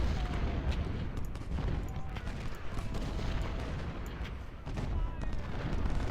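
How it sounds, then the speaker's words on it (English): Canister artillery fire in the Civil War video game Ultimate General, a steady stream of overlapping booms and crackling volleys, dense and continuous without a break. "there's a lot of canister firing"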